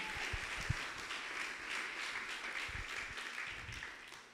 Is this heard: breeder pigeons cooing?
no